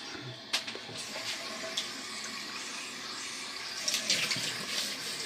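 Water runs from a tap to wet the head before shaving, a steady close splashing flow with a few brief knocks and drips over it.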